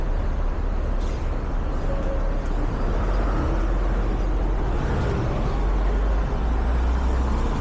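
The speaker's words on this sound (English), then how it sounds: "Garbage truck. New York City Sanitation Department." A New York City Sanitation garbage truck with air brakes on 9th Avenue in Hell's Kitchen, Manhattan, rumbles low and steady through continuous street traffic noise, with a brief hiss early on and no talking.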